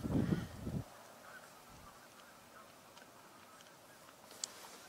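Geese honk loudly at the start, then the calls fall away into quiet outdoor ambience with a faint distant call later.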